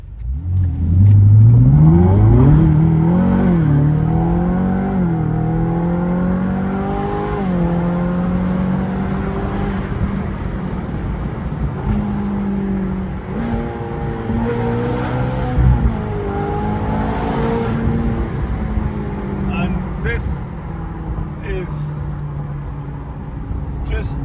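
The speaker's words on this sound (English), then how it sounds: "the warmer the engine and that transmission it gets, the roar, the sound" A Ferrari California 4.3 sports car engine with dual-clutch transmission roars loud and close, revving up and down through gears in rising and falling sweeps as it drives on.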